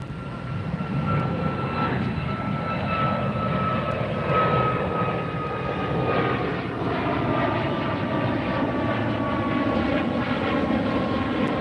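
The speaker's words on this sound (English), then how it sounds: "Another Southwest, head to Vegas, Boeing 737 MAX 8" A Southwest Airlines Boeing 737 MAX 8 bound for Las Vegas departs LAX, its jet engines a loud, sustained roar with a steady whine that slowly shifts in pitch as it climbs away, no talking.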